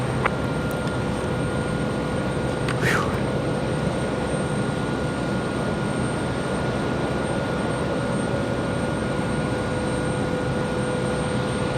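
An airliner on the runway at Raleigh-Durham International Airport makes a continuous broadband engine roar, steady and moderately loud, with a brief thin whine partway through and no voices.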